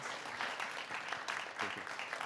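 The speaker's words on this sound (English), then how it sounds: "Maybe big applause for Romain as well." Audience applause for a speaker at a business session on retail media, a steady, fairly quiet wash of clapping from a crowd that holds evenly for the whole stretch.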